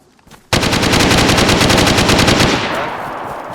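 Automatic gunfire in the video game DayZ, one sustained rapid burst of loud shots lasting about two seconds, then a fading tail.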